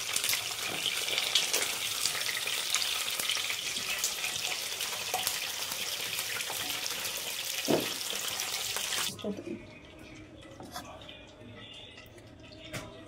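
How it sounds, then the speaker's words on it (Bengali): Potatoes frying in hot oil for a potato and paneer dish, a loud close sizzle that drops off suddenly near the end, leaving quieter clicks and handling noises. "এবার আলুগুলো ফ্রাই করার জন্য একটা একটা করে আলু আমি এখানে দিয়ে দেব"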